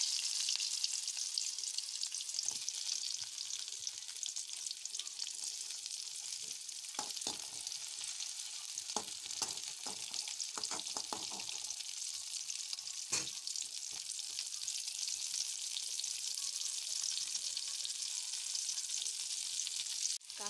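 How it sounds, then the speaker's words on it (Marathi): Chopped onions fry in a pan with mustard and cumin seeds for a radish-greens bhaji, giving a steady close sizzle throughout with occasional clinks of stirring. "याच्यामध्ये मी थोडं राई जिरं घातलेलं आहे. याच्यामध्ये कांदे घातले."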